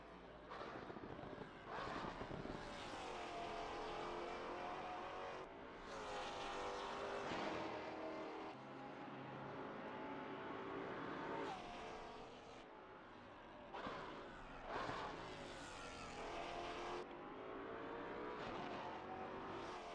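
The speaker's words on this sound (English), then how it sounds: "But I love the sound of the Maserati." A Maserati GT4 race car engine in a racing video game set at Bathurst, roaring and revving repeatedly with rising and falling pitch as it shifts through gears, steady and prominent throughout.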